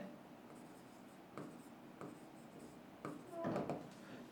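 Chalk or marker scratching across a board during a physics lecture, in several short bursts of strokes separated by pauses, the last burst louder and denser, close and fairly quiet.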